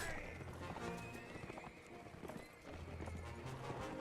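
Horses gallop and neigh in the Mount & Blade Warband medieval combat game, hooves clip-clopping in a rapid rhythm with whinnies over a busy battle background.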